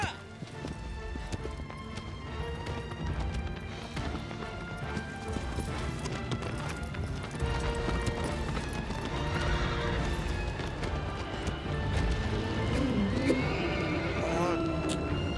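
A horse gallops and neighs in the Shadow of the Colossus video game, with rapid hoofbeats under game music and crashing effects while someone talks over it.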